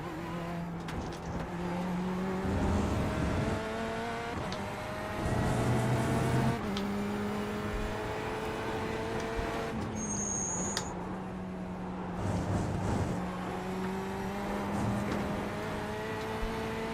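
GTE race car engine in iRacing at Le Mans, a continuous in-car engine drone that climbs in pitch through the gears, drops on shifts and braking, then pulls again down the straight, loud and steady.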